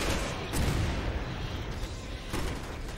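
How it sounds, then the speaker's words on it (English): Grenade launcher fire in the Resident Evil 6 video game: dull booming blasts at about half a second and again near two and a half seconds over a continuous noisy game background, no voices. "Grenade launcher."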